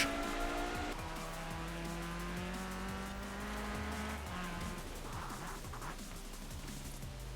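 A car in Forza Horizon 4 slides out at full throttle, its engine roaring through shifting tones as the tires squeal and skid, loud and close, with no talk.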